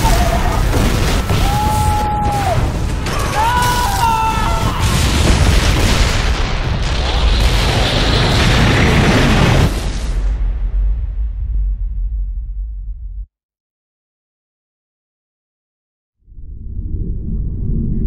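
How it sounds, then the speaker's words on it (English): A missile impact in the video game Turok lands as a long, loud booming rumble with heavy low-end roar and layered debris noise, fading out before a brief silence and a quieter rumble returning. "Incoming missile, brace for impact!"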